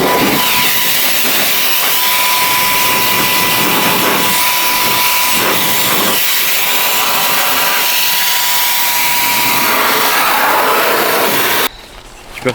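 A small hissing air-blower gadget dusts a Jeep Duck vehicle, giving a steady, loud broadband hiss with faint rustling that runs unbroken for about eleven seconds, then cuts off abruptly.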